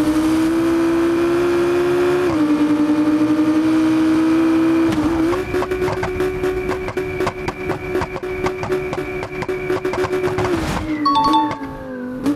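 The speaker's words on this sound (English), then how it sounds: "Lamborghini Gallardo." Lamborghini Gallardo engine in BeamNG Drive, loud and steady, with a droning tone that holds level, steps up in pitch around two seconds and again near five, then cuts off sharply near the end before a brief final rev.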